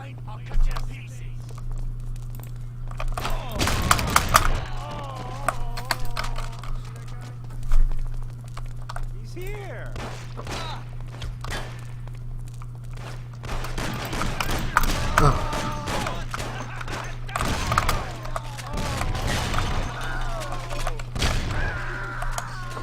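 Sporadic gunshots ring out in bursts from the video game Mafia over a steady low hum, with a player talking between the shots.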